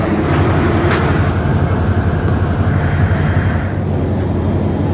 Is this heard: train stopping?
yes